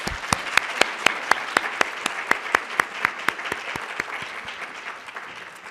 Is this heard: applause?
yes